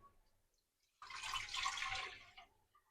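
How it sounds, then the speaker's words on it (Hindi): Water is poured into a nonstick pot in a kitchen while amla pieces are readied for boiling, giving a soft splashing pour of about a second and a half that then trails off. "और अब मुझे इसमें डाल देना है पानी।"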